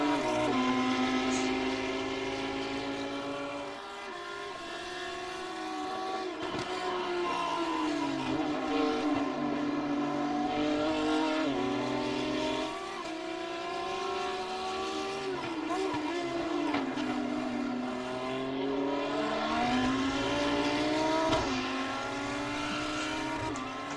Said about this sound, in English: Into the chicane once more come the two cars.